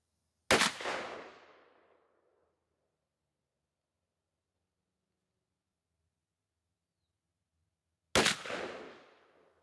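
Two loud Winchester Super X 00 buckshot shotgun shells fired through a 28-inch barrel with a screw-in full choke, sharp blasts about eight seconds apart with decaying echo and silence between.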